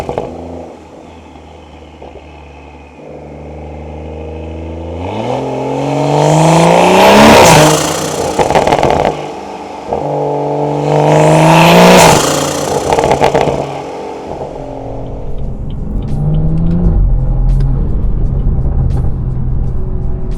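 A Stage 2 BMW 340i with a B58 engine idles, then revs hard twice in long rising roars with a throaty exhaust, falling back to a rumbling idle between and after.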